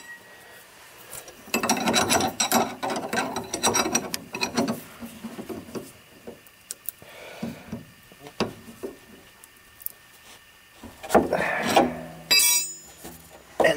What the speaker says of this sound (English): I'm going to put a wrench on the end of this.